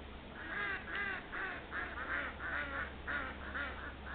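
Ducks quack repeatedly in a steady run of nasal calls, fairly close and clear over a constant low hum, with no talking.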